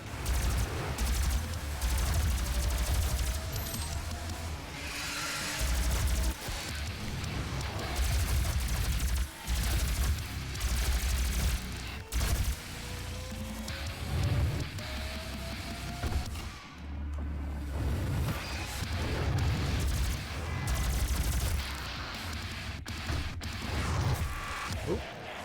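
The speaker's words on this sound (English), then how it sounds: "show off the plasma rifle a little bit" Rapid energy weapon fire from a plasma rifle in the 2016 DOOM shooter game rattles almost nonstop over about 25 seconds, loud and dense with thumping impacts, with brief pauses between bursts and game effects layered in.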